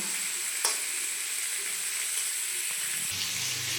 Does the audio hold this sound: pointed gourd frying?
yes